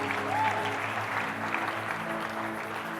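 A church congregation applauding at a service, a dense, even wash of clapping that holds steady for a few seconds without a break.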